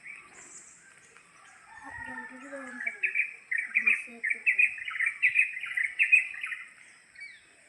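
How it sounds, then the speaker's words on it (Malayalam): Morning birdsong rings out around a temple, with bright chirps and calls building into a busy chorus alongside a rooster's crowing, moderately close and without talk. "നല്ല കിളികളുടെ ഒക്കെ സൗണ്ട് കേൾക്കുന്നുണ്ടാവില്ലേ"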